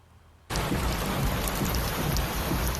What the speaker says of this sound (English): This morning, heavy rain in central and east Tennessee, triggering flash floods at Dollywood